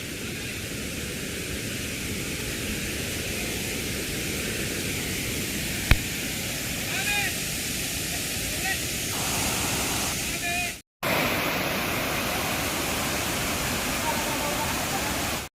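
Goyar waterfall near Karwar pours heavily in a dense, roaring broadband rush, loud and close, continuous apart from a brief cut, with no talking over it.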